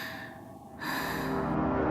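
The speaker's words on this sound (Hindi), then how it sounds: "उसने हांफते हुए उसकी कॉल रिसीव की।" A woman pants heavily, with a short pause followed by a steady run of loud, breathy gasps that build in intensity and stay close.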